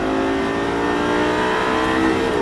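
A Lamborghini Gallardo LP560-4 or Ferrari 458 Italia accelerating at full throttle on a racetrack, with a loud, continuous, rising high-revving engine wail throughout.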